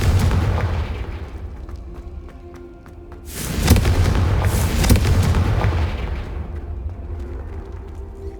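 A Confringo fire spell in Hogwarts Legacy erupts as a loud, booming blast with a sustained roaring burst that swells and fades, preceded by crackling battle noise, with no voices.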